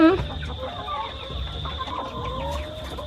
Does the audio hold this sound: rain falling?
no